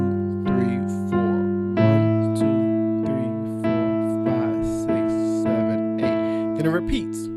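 Solo piano plays the verse of a song with a sustained A in the bass, struck in a steady repeating pulse under chords, close and clear.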